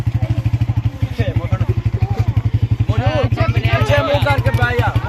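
A motorcycle engine idles close by with a steady, rapid putter while several people talk over it at an outdoor gathering.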